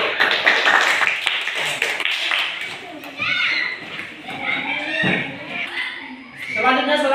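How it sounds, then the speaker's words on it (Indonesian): Classroom applause after a group presentation in a teaching practice session, a burst of scattered clapping from students mixed with chatter and voices continuing underneath. "Berikan tepuk tangan."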